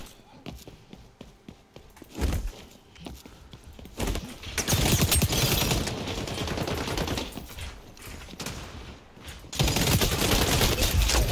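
Bursts of automatic gunfire in the shooter game XDefiant, rapid rattling volleys that swell loud and fall back between exchanges, with a voice talking over parts of the firefight.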